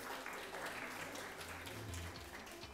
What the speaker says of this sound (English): Can we give a strong round of applause to Dr. Joy Clark, please?